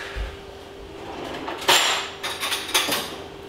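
Kitchen cutlery and cupboard sounds while fetching a fork, a soft thump followed by a sharp metallic clatter and a few lighter clinks nearby.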